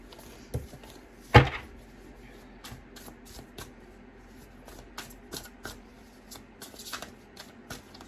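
Tarot cards are shuffled by hand for a card pull, a close series of soft riffling flutters and taps with one louder slap near the start, and no talking.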